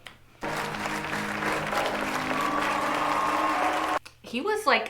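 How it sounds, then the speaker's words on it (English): A group claps steadily for several seconds, a dense, even applause, then stops abruptly as a voice begins speaking. "we have to clap in the slow clap pattern."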